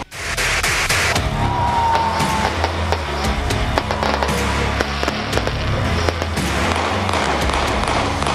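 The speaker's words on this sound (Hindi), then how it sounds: "कहीं आतिशबाजी की गई" New Year fireworks at a street celebration, a dense, continuous barrage of crackling bangs and pops, loud and unbroken, with a brief whistling streak early on and no clear speech.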